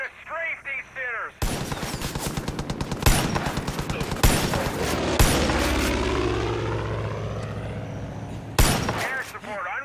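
An aircraft strafing with machine gun fire in the video game Far Cry 5, a loud sustained rapid burst over the aircraft's roar, with heavy impacts, a lull, then another burst near the end.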